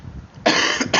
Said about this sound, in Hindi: खांसी के चक्कर में पूरी वीडियो बेकार हो गई।